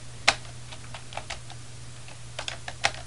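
Computer keyboard typing at a workstation: a few sharp, separate keystrokes with irregular gaps, close and clear over a low steady hum, no voice.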